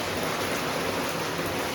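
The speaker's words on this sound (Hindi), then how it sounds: "बहुत तेज बारिश हो रहा है" Heavy rain pouring down steadily, a dense continuous hiss of water close by with no pauses and no talking.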